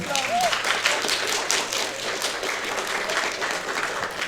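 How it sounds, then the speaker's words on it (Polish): Loud audience applause fills a cosplay competition hall at BiforCon 2024, a steady dense clatter of many hands that holds throughout, with some voices mixed in early on. "na gromkie, gromkie oklaski"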